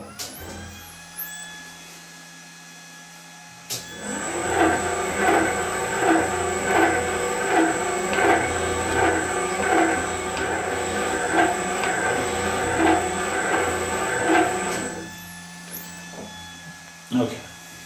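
Metal-cutting machine taking a 0.4 mm pass on a sine base, a steady mechanical drone with rhythmic pulsing for about eleven seconds, starting and stopping abruptly, with quiet shop hum before and after.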